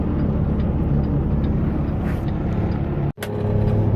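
A semi truck cab eases slowly forward, its engine idling in a loud, steady, close drone with a brief cut near the end and no talk.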